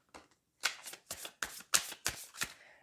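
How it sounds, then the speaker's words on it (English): Close, crisp riffling bursts of tarot cards being shuffled, about seven quick flutters in a row with brief pauses between them. "I am trying out a new shuffling technique"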